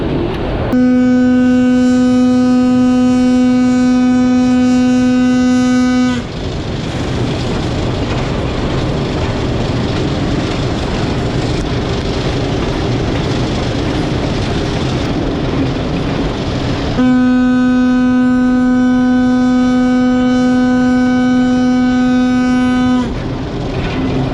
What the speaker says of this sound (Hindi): अब लेते हैं ट्रेन के हॉर्न का मज़ा